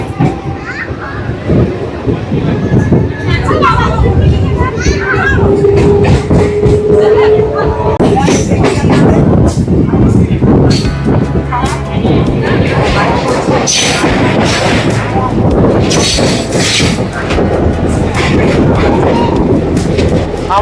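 A Santragachi–Digha local train pulls away from a station, its wheels and carriages rumbling steadily and loudly throughout, with children's voices and passenger chatter mixed in.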